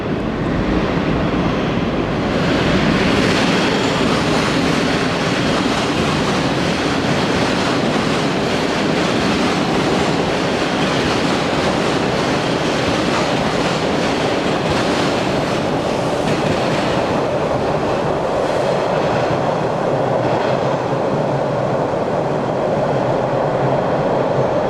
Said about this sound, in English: First mainline train of the day.